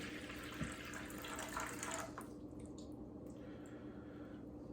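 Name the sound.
water poured into a bowl for sourdough bread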